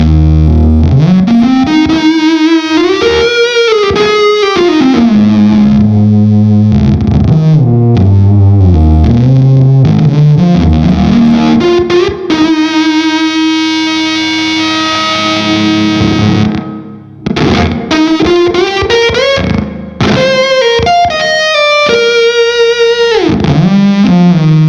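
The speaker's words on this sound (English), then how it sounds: "Now my THOR is not a usual ToneBender" A THOR fuzz pedal, a Tonebender variant, drives an electric guitar into a loud, thick, saturated tone, played as bending, sliding lines and sustained notes over a long stretch with brief gaps.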